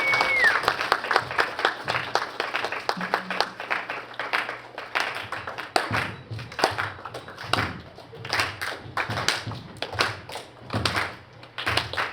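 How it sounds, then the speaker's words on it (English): A small audience claps in scattered, uneven bursts, individual hand claps standing out sharply against quiet gaps, with a faint low hum underneath. "Can we have another round of applause"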